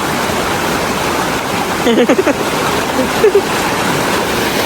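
River water rushes and splashes in a steady, loud flow close by, with brief voices breaking through the noise partway through.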